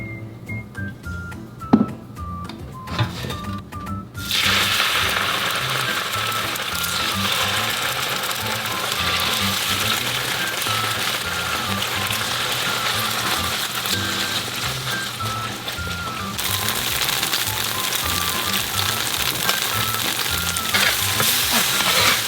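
A perilla leaf spring roll fries in a pan, giving a steady, close sizzle with crackling that swells after a quieter start, with faint clicking and clinking around it.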